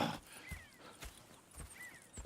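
Horses in Red Dead Redemption 2 clop softly in a few spaced hoof steps, faint and close, with quiet ambient noise between them.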